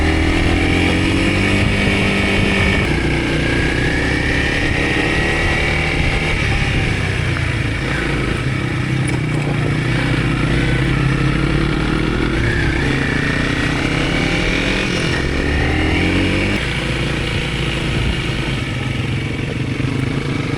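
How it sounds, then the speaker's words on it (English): Farm tractors rolling past in a rural parade in Burkes Garden, Virginia, their engines rumbling loudly and continuously at close range for the whole stretch, with layered motor drone and no talk. "Tractor parade."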